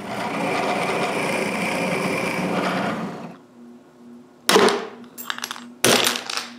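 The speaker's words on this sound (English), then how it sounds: "drill some holes into the bodies for the arms" A drill whirs steadily as it bores holes into wooden nutcracker bodies, then spins down into a low hum, followed by sharp clacks and rattles as the wooden parts are handled.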